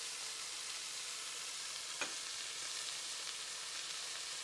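Onion and capsicum fry in a little oil for a lamb casserole, making a steady, close sizzle that runs throughout with a single faint tap partway through.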